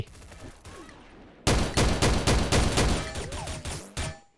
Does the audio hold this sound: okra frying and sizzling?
no